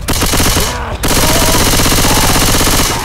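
Rapid automatic gunfire in Left 4 Dead 2, dense bursts of close, loud shots with a short break near the start before the firing resumes continuously.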